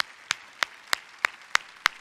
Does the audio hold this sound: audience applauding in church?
yes